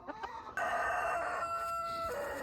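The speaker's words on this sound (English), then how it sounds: "So we're going to bring our first chicken." A chicken on a homestead crows loudly and clearly, a sustained cock-a-doodle-doo after a few short clucks, close and alone with no talk.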